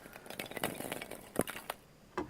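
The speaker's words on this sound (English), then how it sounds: "Here's plastic bits" Light clicking and rattling of small plastic pieces, a few scattered taps and knocks, close and fairly quiet.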